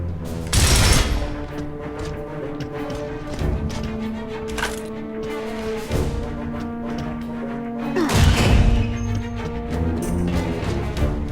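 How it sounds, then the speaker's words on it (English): Heavy gunfire erupts in a Gears of War battle, with loud, dense bursts of automatic fire and sharp blasts, including big impacts near the start and again around the end, over a rumbling combat backdrop. "Ground units are taking heavy fire."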